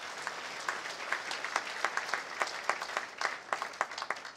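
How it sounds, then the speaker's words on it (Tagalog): A church congregation claps together at moderate volume, a steady patter of many hands with distinct rhythmic beats running throughout, no speech over it. "mas malakas na palakpak para kay Lord."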